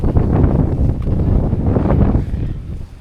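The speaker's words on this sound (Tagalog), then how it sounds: "sobrang lakas ng hangin" Strong seaside wind buffets the microphone in heavy, rumbling low gusts that roar continuously, easing slightly near the end, with no speech audible.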